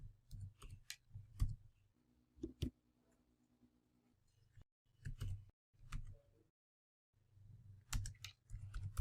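Typing on a computer keyboard while entering a Puppet server IP address, quick bursts of close, quiet key clicks broken by short pauses and a few louder taps.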